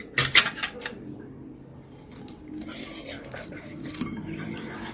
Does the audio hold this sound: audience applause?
no